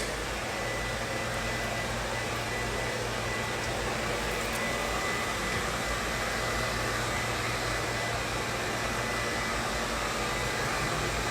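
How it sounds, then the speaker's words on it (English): A hair dryer blows steadily and loudly on long layered hair after a wolf cut, a constant close-up whoosh of rushing air with no talking. "I'm just kind of lazy blow drying it"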